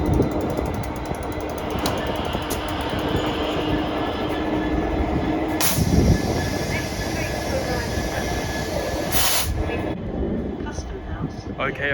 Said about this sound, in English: arriving in now is another class 345